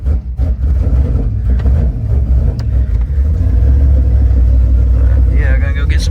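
A Terminator car engine running rich, idling with a steady low rumble and slight revving, loud and close, with someone talking over it.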